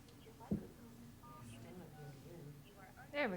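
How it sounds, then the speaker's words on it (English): Telephone keypad DTMF tones as a caller dials star 6 to unmute during a planning commission meeting call, a few short beeps over background voices and room noise. "Please hit *6 on your phone."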